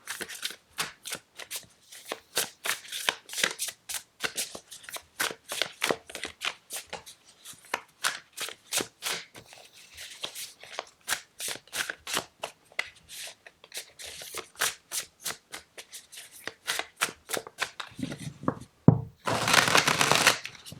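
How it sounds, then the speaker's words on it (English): Tarot deck shuffled by hand in quick, steady bursts of crisp card flicks that continue for a long stretch, close and moderately loud, ending with a louder rustling burst. "shuffle and pull a card for the next 6 months"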